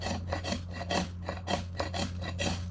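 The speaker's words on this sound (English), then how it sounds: "This SK85 that Work Tuff uses really does a great job at sparking ferro rods." A Work Tuff knife's SK85 steel spine scrapes a ferro rod in about a dozen quick, rhythmic rasping strokes, close and loud, with a steady low hum underneath.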